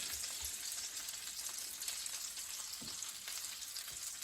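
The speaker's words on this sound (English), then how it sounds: "So a few more minutes and then our fish will be done and flaky and really, really nice and crispy" A hake fillet pan-fries until crispy, giving a continuous close hiss and sizzle with faint clicks and small pops, and no voices.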